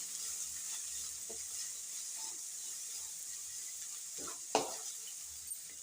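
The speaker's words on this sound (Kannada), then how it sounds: "ಕಲರ್ ಚೇಂಜ್ ಆಗಮಟ್ಟ ಒಂದು ಸ್ವಲ್ಪ ಬೇಯಿಸ್ಕೊಂಡ್ರಿ ಈರುಳ್ಳಿ" Onions and green chillies frying in a pan for bun dosa, a soft, fairly faint sizzle with a few stirring scrapes and one sharper clatter near the end.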